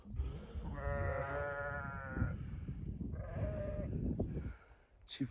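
Two long sheep bleats rise over a rumbling outdoor background at a farm, the first drawn out and the second shorter, fairly close.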